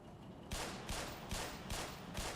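Gunfire in the video game Black Mesa, several loud, sharp bursts in a steady rhythm over a constant background hiss, with no voices.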